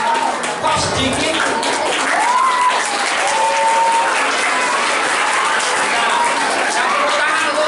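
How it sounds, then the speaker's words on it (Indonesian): Applause from a children's audience at a population-awareness session run by the BKKBN, a dense, steady clatter of many small hands lasting several seconds, with children's voices and shouts mixed in over it. "Mana tepuk tangan untuk dia?"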